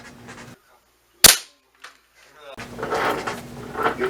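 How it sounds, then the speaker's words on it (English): A single sharp, loud crack from a Benjamin Marauder .25 caliber air rifle firing a JSB Exact King pellet, set between stretches of background noise and a faint later click. "Now I'm shooting a JSB Exact King 25 caliber Diablo"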